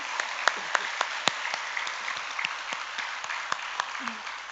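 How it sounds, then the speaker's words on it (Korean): Church congregation applauds in faith after a prayer, a dense, even patter of many hands with a few louder claps, heard from across a large room with faint voices mixed in. "그리해 주실 주님께 우리가 믿음으로 박수할까요?"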